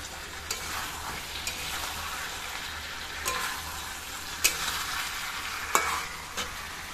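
Potatoes tossed into a spice paste in a pan and stirred, giving a soft steady frying hiss with a few sharp scrape-like ticks from the spoon, fairly quiet throughout.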